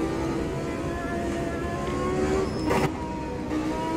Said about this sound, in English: this engine sound really immense